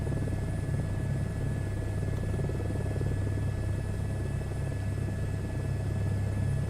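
Helicopter flying in the SU2 Beta simulator game, a steady loud rotor drone with a constant low pulsing rumble and a faint high whine, unbroken throughout with no talking.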